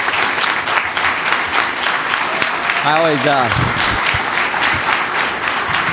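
An audience applauds a speaker at a conservative political event, a dense, loud, continuous clapping close around, while a voice briefly speaks over it midway.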